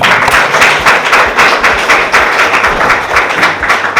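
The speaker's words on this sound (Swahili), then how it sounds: "makofi tafadhali" A crowd claps steadily for a district hospital staff member at a health department certificate ceremony, dense, loud applause sustained throughout with no voices over it.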